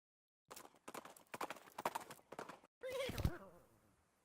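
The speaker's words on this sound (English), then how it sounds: "I'm glad I got that horse." In the video game West of Loathing, a string of clip-clopping hoof beats is followed by a short horse whinny, fairly quiet and close.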